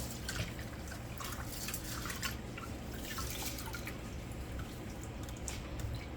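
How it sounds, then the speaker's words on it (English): Continuous watery splashing and trickling with scattered drips, steady and close, like rice being swished and rinsed in a bowl of water. "you're just gonna rinse the rice until the water is clear"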